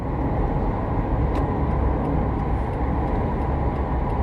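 A car drives through traffic while merging, with a steady low road and engine rumble heard from inside the cabin and a faint brief hiss partway through. No one speaks.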